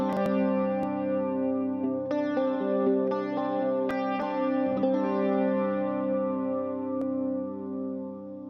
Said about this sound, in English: The next amp is the Green Road Pendragon PG20C, the normal channel.